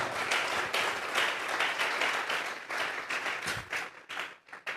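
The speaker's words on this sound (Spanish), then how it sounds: "Regálele ofrenda de palmas al Dios de la gloria." A church congregation applauds during a Spanish-language sermon, with dense clapping that breaks into uneven bursts and thins out and fades toward the end.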